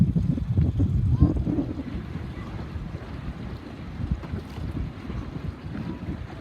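A small Sabot sailboat racing in an under-12 regatta, with steady wind buffeting the microphone and low rushing water along the hull, a continuous dense roar with no clear speech.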